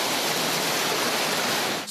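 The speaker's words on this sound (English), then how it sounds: "Storm water rushing into Ross Limbruggen's garage." Storm water rushing into a garage during a ferocious Perth storm, a loud, dense, unbroken roar of flowing water that stays steady and close throughout.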